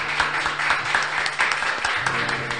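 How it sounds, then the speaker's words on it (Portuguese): People in a radio studio clap together after a sung tribute, a dense, steady patter of hands at moderate loudness with faint tonal sound underneath. "vamos bater palmas aqui"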